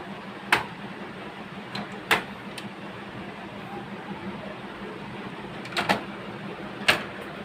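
A model 2523 printer fitted with a duplex unit runs quietly, a low steady mechanical hum broken by a few sharp clicks and clacks at irregular intervals.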